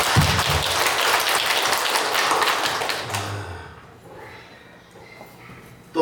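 A church congregation at a Korean women's mission dedication worship service claps in dense, loud applause for about three seconds, then it cuts off into quieter room noise with a few scattered sounds.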